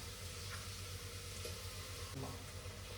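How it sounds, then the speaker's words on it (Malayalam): Ginger and garlic sizzling as they go into a hot pan, a steady low frying hiss with faint stirring scrapes, quiet and continuous with no talking. "ഇഞ്ചിയും വെളുത്തുള്ളിയും ഇട്ട് കൊടുക്കാം കേട്ടോ."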